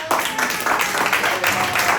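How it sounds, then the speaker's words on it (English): An audience at a community talent show applauds in a dense, continuous wash of clapping that stays fairly loud throughout. "Let's give Cato a big round of applause."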